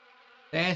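An insect buzzes in the video game Harvester: a faint, thin drone that swells abruptly into a louder, rough buzz as if the creature passes close, lasting under a second with no talk.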